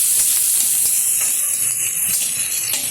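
Black cumin seeds and chopped onion crackle in hot oil in a pan, a steady close, loud sizzling hiss with faint scraping, no voices.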